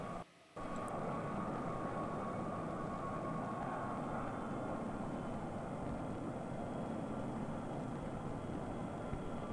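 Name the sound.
jet airplanes at a 1950s New York airport, old film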